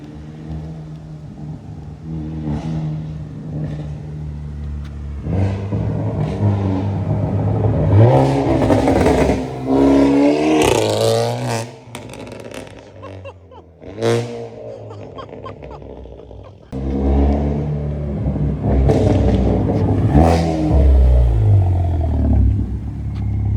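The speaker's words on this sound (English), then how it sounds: "you can hear the car before you see it now" A powerful modified Hyundai Elantra N engine revs hard in repeated loud surges, with rumbling and whining bursts rising and falling up close over about twenty seconds.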